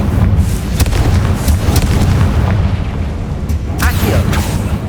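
A Confringo fire spell goes off in the game Hogwarts Legacy as a loud, heavy booming blast, with a rumbling burst that fills the whole short stretch and a few sharper cracks on top.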